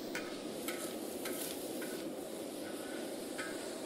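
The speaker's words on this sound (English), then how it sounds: "So we're cooking down the bacon." Bacon cooks down on a discada, a soft continuous sizzle with a few light scraping and stirring ticks spread across it, fairly distant and low in level.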